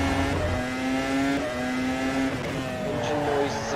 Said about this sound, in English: Engine noise is a bit too loud.